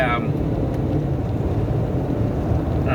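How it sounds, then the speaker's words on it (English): A car engine runs loudly with the overdrive switched off, a steady, constant low drone that fills the whole stretch without letting up. "If you guys heard that loud engine sound, I just realized that."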